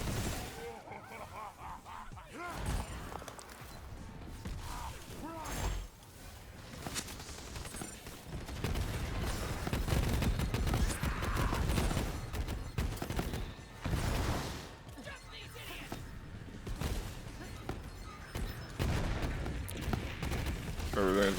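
Rapid gunfire and explosive bursts from the Borderlands 3 video game, a Moze build on a Slaughter Shaft run, dense and continuous throughout, with a voice speaking over the shooting at times.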